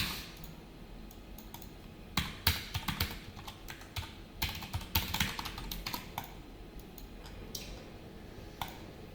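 Code being typed on a computer keyboard, heard as close bursts of rapid key clicks with short pauses between runs of typing, with no voices present.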